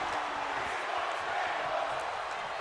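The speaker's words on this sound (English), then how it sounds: "We want tables, chant the crowd." Crowd chanting for tables at a WrestleMania event in WWE 2K26, a steady, dense roar of arena voices filling the whole stretch with no break.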